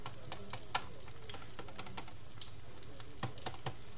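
Steady oil sizzle and crackle of an eggplant omelette frying in a pan, with a few sharp spatter pops and faint clinks, close and continuous.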